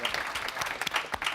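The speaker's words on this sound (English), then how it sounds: "please join me in acknowledging a good round of applause for Jackson Beard" Audience applause at a Federal Reserve Bank of Chicago event: a short burst of scattered, fairly close clapping with uneven rhythm.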